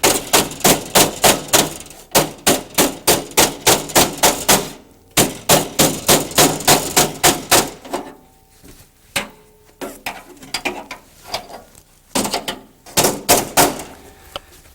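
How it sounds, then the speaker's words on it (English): A hammer strikes the edge of a metal door skin held over a flat dolly block, folding it over in fast, loud, ringing metallic blows, with a brief pause and then sparser, lighter taps. "We'll do that by using a flat dolly block and a hammer"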